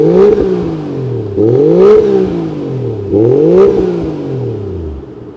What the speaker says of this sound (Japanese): じゃあちょっとマフラー吹かしてみましょうか。